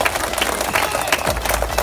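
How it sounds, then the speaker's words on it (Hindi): Outdoor crowd at a cricket tournament grand finale in Salbukh, Riyadh, clapping in a dense, steady burst of applause with scattered cheers, loud and close, filling the whole moment. "उनके लिए भी दफा जोरदार तालियां।"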